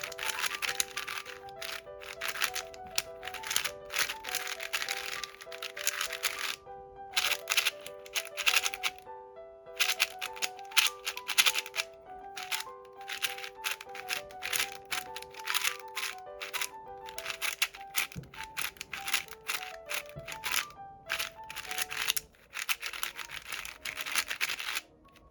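A 4x4 speed cube is turned rapidly by hand, producing dense, crisp plastic clicks and clacks in quick irregular bursts with short pauses, close and fairly quiet.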